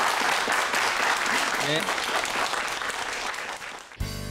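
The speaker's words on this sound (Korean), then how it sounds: "다시 한번 박수 부탁드립니다." An audience at a televised lecture claps steadily and loudly for about four seconds, a dense crowd of hands, before it cuts off and a speaker's voice comes in briefly.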